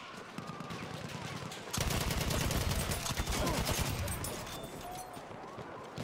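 A BAR M1918 firing in multiplayer Battlefield 1, a fast automatic burst close and loud after a quieter opening, the shots thinning into scattered fire, with faint voices beneath.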